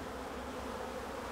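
Honey bees hum in a dense, even drone from a full brood box beneath a comb honey super, close and steady with no pauses or voices.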